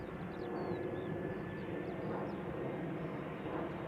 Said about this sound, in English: EasyJet A319 arriving from Prague